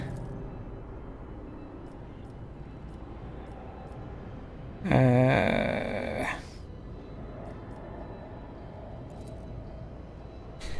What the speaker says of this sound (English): The navigator is breathing heavy.